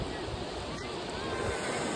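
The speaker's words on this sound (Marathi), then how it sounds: "खूप खवलेल्या अशा लाटा आलेल्या आहेत" Rough, choppy sea surf breaking on Alibag beach, a steady broadband wash of water with wind buffeting the microphone throughout, fairly loud and continuous.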